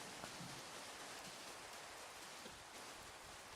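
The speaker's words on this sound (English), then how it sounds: "That rain is so loud." Rain falls steadily outside a chicken coop, a dense, even hiss of drops that stays constant throughout with no voices, though fairly quiet overall.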